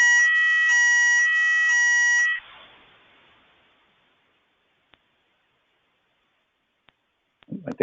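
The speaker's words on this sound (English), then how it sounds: "I think that's probably the fire alarm which has gone off." An office fire alarm blares loudly with a harsh repeating electronic tone for about two seconds, then cuts off into near silence with a few faint clicks and a short noise burst at the end.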